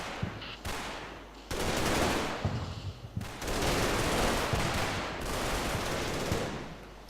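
Squad machine-gun fire in the Combat Mission war game comes as long sustained bursts of rapid shots with short gaps between, loud and close, with no talk.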